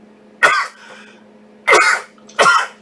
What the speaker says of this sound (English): that's a sneeze, not a cough